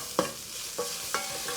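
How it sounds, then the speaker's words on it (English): Blitzed ginger and garlic paste frying with golden onions for a rajma kidney bean curry, with three distinct spoon stirs scraping the pan over a soft, low sizzle. "I'm just going to add the blitzed up ginger and garlic and give it another minute of cooking"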